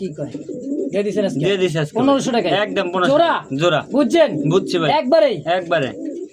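Pigeons coo in soft, rolling, repeated calls at a busy pigeon market, close by and largely mixed with someone speaking over them.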